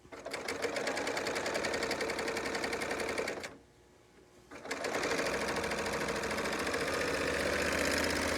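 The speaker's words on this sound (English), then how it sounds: "as I'm stitching this through, I'm being careful not to stretch it because I don't want it to pucker" A Bernina overlocker serger stitching fabric runs at a steady, fast, loud mechanical whir, stops briefly for about a second, then runs on again continuously.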